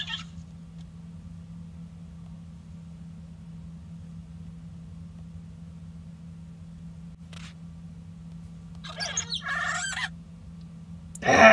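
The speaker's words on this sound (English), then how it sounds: "The sound baby dragons make are absolutely precious." Baby dragons in the video game Dragon Adventures give short, squeaky chirping calls in a few brief bursts over a steady low background hum, with a sharper cry at the very end.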